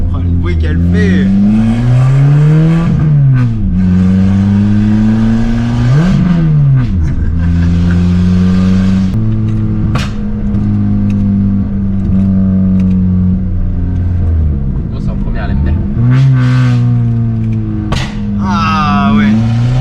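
A Peugeot 206 with a V6 engine revs hard again and again, pitch climbing and dropping sharply, loud and close, with voices talking over it.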